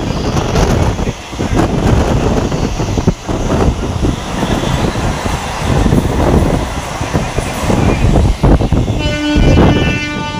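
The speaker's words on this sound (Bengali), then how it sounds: "এক্সপ্রেস ট্রেনে ক্রসিং হবে," A passenger train on the Howrah–Haldia line is crossed by an express train. A loud, continuous rail rumble with clattering wheels fills the clip, and a train horn sounds near the end.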